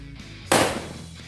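A Colorful Thunder firecracker goes off with one sharp, loud bang that decays over about half a second, standing out against quiet outdoor background with no talk.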